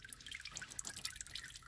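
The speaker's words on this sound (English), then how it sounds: "Adjust your oil pan. Look where you are dripping." Motor oil drips from a 2011–2019 Ford Explorer 3.5L V6 during an oil change into a drain pan below, a quiet run of soft, irregular drips and trickles close by, with no talking.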